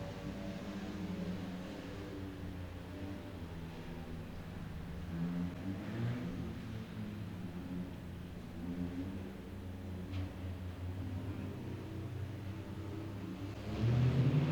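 Autograss Junior Specials race cars line up on a Kings Lynn track with a steady mid-pitched engine drone and rumble from a distance, swelling briefly near the end, and no talking.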